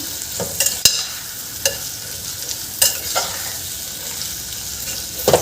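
Vegetables with pulao masala sizzle steadily in a pan while a spoon stirs through them, scraping and clinking in a few distinct strokes over the continuous frying hiss.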